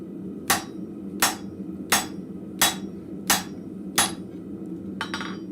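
A blacksmith hammers hot steel on an anvil at a forge, six sharp ringing blows at an even, unhurried pace, then a quicker cluster of lighter taps, loud and close with no talk.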